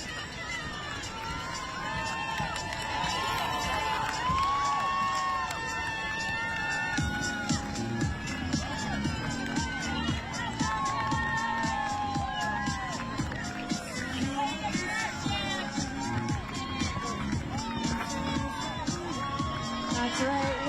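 A roadside crowd at the Bayshore Marathon cheers and shouts steadily for finishing runners, with children's voices and claps mixed in, while a commentator talks over the noise throughout.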